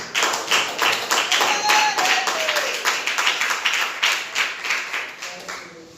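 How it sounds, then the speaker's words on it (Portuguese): A church congregation claps steadily in time, a loud, close, rhythmic beat of many hands held for the whole stretch and easing slightly toward the end. "A igreja pode sentar e bater as palmas para Jesus"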